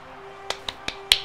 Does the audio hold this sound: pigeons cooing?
no